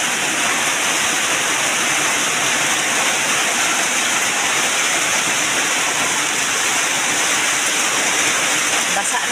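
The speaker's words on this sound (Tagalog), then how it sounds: "Ito kay ulan guys." Heavy rain pours down in a dense, loud, unbroken hiss, close and steady throughout with no clear talk.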